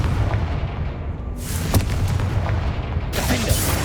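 The Confringo explosion spell in Hogwarts Legacy goes off as two heavy booming bursts over a rumbling game background, each blast striking sharply and then fading.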